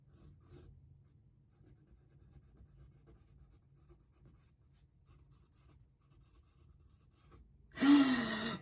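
Pencil writing on paper, soft scratchy strokes close to the microphone over a quiet low hum, ending in a brief louder scrape or rustle.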